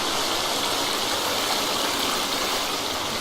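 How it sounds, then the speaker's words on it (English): A waterfall pours into a rushing stream in a forest survival game, a loud, steady broadband roar of water that stays constant throughout with no voices over it. "I've got a waterfall."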